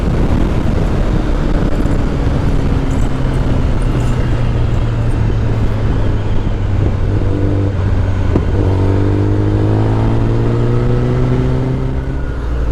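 A Kawasaki ZX10R rolls off the throttle at about 100 km/h and slows on engine braking: a loud, steady engine drone with heavy wind roar, its tones sliding gradually lower.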